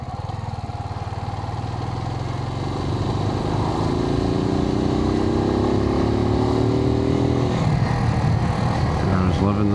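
A Suzuki TU250x motorcycle being ridden, its small single-cylinder engine giving a steady, close drone that rises in pitch partway through as it accelerates, then settles, with wind noise and a voice over it.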